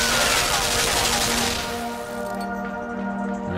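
Rapid machine gun fire in the side-scrolling video game Limbo, a dense continuous burst for the first second and a half that thins into lighter rattling and a steady mechanical hum toward the end.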